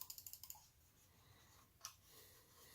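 A Logitech G603 computer mouse gives a quick run of about seven crisp, light clicks close by, then a pause and a few more isolated clicks, faint and with no voice.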